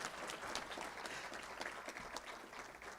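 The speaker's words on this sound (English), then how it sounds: "Now the clap." Audience clapping at an internal medicine graduation ceremony, a dense, steady round of applause from a hall of people, moderately distant and fairly quiet, with no talking over it.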